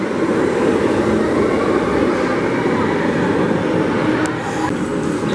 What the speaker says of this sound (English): Trying to see if here comes a train.